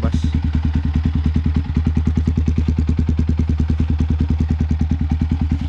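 A Yamaha WR155R fitted with a Proliner XR-1 aftermarket exhaust idles steadily, its loud, close single-cylinder pulses firing in a fast, even rhythm with a thin, raspy tone and little bass.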